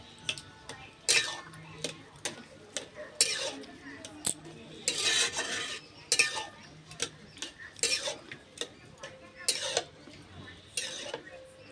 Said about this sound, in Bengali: এবার আমি খুন্তি দিয়ে একটু ঘেটে দেবো এইভাবে।